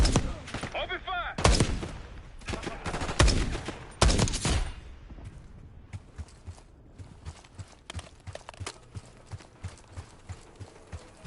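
Gunfire in Call of Duty: Black Ops 6: several loud, close bursts of shots in the first four seconds, then quieter rhythmic clopping and distant pops, with a voice briefly heard.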